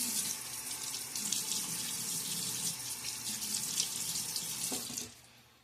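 Tap water runs steadily into a sink as a face is wetted before a wet shave, a continuous close splashing hiss that cuts off near the end.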